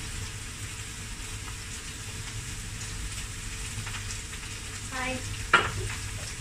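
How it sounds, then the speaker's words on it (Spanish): Eggplant and zucchini sautéing in a pan, a low steady sizzle running throughout, quiet and close, with a brief clatter near the end and a single short spoken word. "cuando ya tenga yo ya sofrito las berenjenas y el calabacín al punto que yo quiera"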